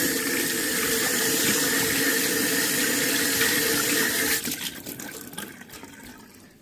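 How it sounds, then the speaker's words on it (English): Water runs from a kitchen faucet as hands are rinsed, a steady close splashing hiss that breaks up into uneven trickles and fades as the tap shuts off. "Rinse my hands off."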